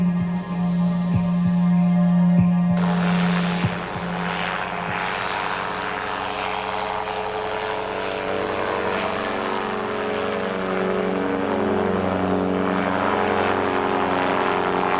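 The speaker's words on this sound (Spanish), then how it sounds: "Utilizando un pequeño motor delta con forma de cóndor, nos elevamos sobre Sacsayhuaman para mirarlo desde el aire" Small motorized delta-wing ultralight shaped like a condor flying over Sacsayhuaman in Peru, a steady loud propeller engine drone with a strong low hum that shifts pitch slightly after a few seconds and continues throughout.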